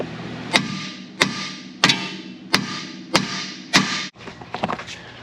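A hammer strikes a C3 Corvette control arm ball joint six times in an even rhythm, each a sharp, close metallic bang with a short ring, followed by lighter scraping and tapping.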